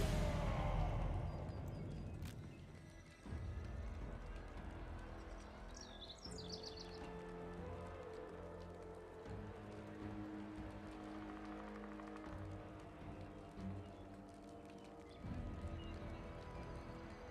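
Cavalry horses gallop in the battle game Total War: Arena, a loose rumble of hoofbeats with occasional whinnies and distant birdsong, moderately faint against game ambience and music.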